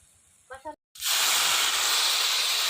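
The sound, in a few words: water added to sizzling crab curry in pan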